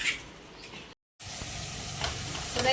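Food sizzles steadily in a pan on a home kitchen stove, a continuous hissing fry with a short dropout partway through and no voices.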